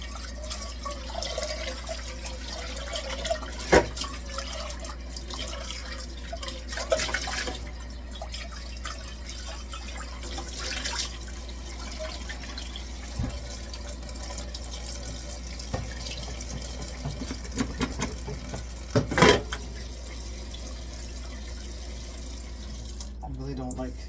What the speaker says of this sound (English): I really don't like running the water, wasting water like that.